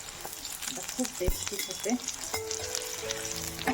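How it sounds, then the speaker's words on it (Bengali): Dal being tempered in hot oil sizzles and crackles steadily, close and moderately loud, with a stirring clatter and a voice talking briefly over it. "আর এখানে ডালটা ফোড়ন দেবো"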